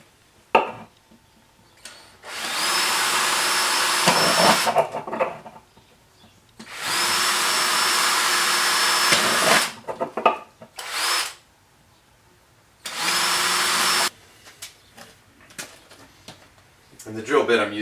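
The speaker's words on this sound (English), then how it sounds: "the drill bit I'm using for this is just a 1/4-inch drill bit" A power drill with a 1/4-inch bit whines in several separate bursts while drilling holes in a plastic jug, each lasting a few seconds, with brief clicks, handling noises and quiet pauses between them.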